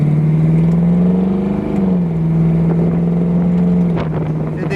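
A 1974 Ford Bronco with a 302 EFI V8 rumbles through its exhaust as the throttle is blipped, a deep steady burble that swells slightly and settles, heard close and loud with some wind buffeting.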